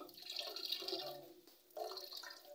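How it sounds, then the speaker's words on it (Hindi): Water squeezed through cloth from ground almond pulp while making almond sharbat, a close, trickling, splashing stream that pauses briefly and then resumes, with no talking. "इस मटेरियल को आप एक कपड़े में ही रख के एक दफ़ा दोबारा अच्छे से प्रेस कर दें"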